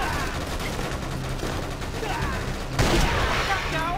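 F2X sniper rifle shots in a Vietnamese online shooter game, a dense spread of gunfire with a sharper shot near the end, mixed under a speaking voice.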